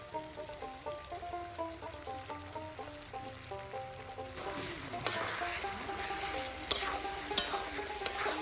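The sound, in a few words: spices with ginger, garlic, green chilli paste frying in pan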